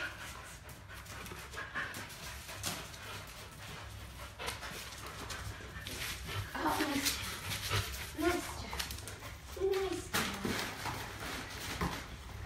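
A dog pants and whimpers nearby over low room noise, with a few short yelps and soft thumps.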